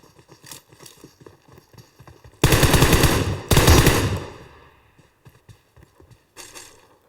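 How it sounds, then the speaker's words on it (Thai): Automatic rifle fire shooting a bot in PUBG Mobile, two loud close bursts of rapid shots back to back mid-clip, between quieter game footsteps and movement sounds. "เดี๋ยวผมขอตัวยิงบอดก่อนนะ"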